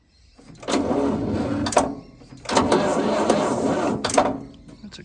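Fiat 600 tractor engine turning over on the starter, two long cranking bursts of roughly two seconds each with a short pause between, close and fairly loud.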